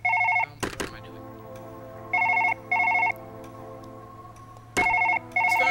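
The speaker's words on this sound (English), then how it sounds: "This phone's annoying me." A telephone rings in the game Surgeon Simulator, a loud electronic trill in short repeated bursts with gaps between, alongside other in-game sounds and a steady background tone.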